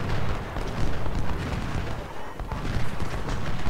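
Dense, continuous gunfire and artillery booms from a large Civil War battle at Shiloh in the strategy game Ultimate General: Civil War, a loud, steady rumble of overlapping musket volleys and cannon fire with no clear gaps.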